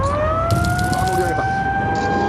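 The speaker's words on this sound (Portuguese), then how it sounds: "Dirigíamos pela cidade ouvindo as sirenes de tsunami." Tsunami warning sirens wail steadily across a Japanese coastal city, a sustained rising tone heard from a moving car, with faint background clatter and no clear speech.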